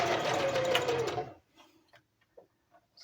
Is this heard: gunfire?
no